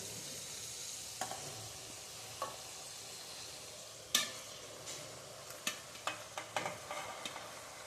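Green onion leaves going into plenty of hot oil for a Kathiawadi green onion curry: a soft, quiet sizzle punctuated by several sharp spatula scrapes and taps, no voices.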